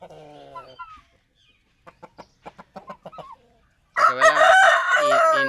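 Roosters and hens kept on a poultry farm where chickens are sold: a short cluck at the start, a series of soft rhythmic clucks, then a loud, close crow at the end.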